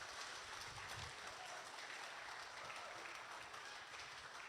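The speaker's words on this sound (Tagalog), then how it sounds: "Yung mas malakas pa na palakpak." Congregation applauding during a church celebration service, a steady wash of many hands clapping that fills the whole clip at a faint, distant level with no clear talk over it.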